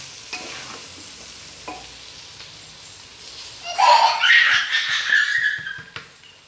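Cooked rice tipped into a hot frying pan for chicken egg fried rice, stirring scrapes giving way to a loud, sustained sizzle that swells midway and runs on close by.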